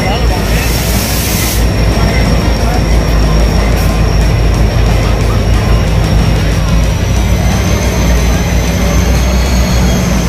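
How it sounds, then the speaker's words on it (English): A train passes close by on a scenic ride, its loud, continuous roar and rumble filling the whole stretch, with faint voices now and then under the noise. "The train's coming!"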